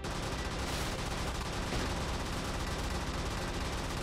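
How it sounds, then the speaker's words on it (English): A laser shotgun fires repeatedly in the game Brigador, producing a dense, continuous wash of blasts. The shots are fairly quiet and steady throughout, with no clear gaps between them. "That is a laser shotgun."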